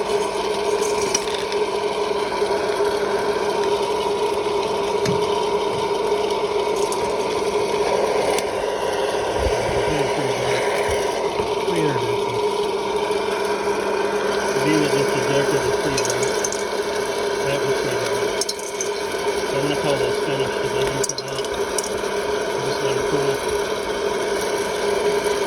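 Coffee beans roasting in a hot air popcorn popper, a constant loud blowing fan roar with scattered small cracks popping through it, irregular and sparse over a long stretch.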